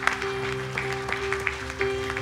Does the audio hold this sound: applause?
yes